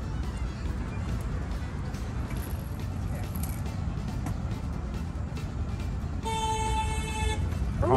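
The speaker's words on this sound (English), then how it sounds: "Honking for you." A car horn honking near a tidal basin in DC, a sustained tonal toot near the end rising over steady outdoor background noise, with people talking.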